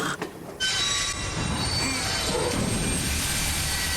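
A train in a Wild West video game rolls along its rails, a brief quieter moment giving way to a loud, steady rumbling roar with thin high squealing tones from the wheels.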